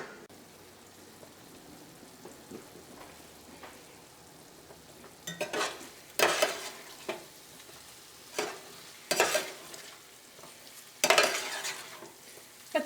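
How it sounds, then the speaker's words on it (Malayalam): Chicken masala curry simmering in a pan, a soft low bubbling bed broken by several louder sizzling bursts and stirring scrapes in the second half, with no talking. "ഇനി നമുക്ക് മൂടി വെച്ചിട്ട് ഒരു മീഡിയം ഫ്ലെയിമിൽ ഇട്ടിട്ട് തന്നെ ഈ കറി നമുക്ക് വേവിക്കാം."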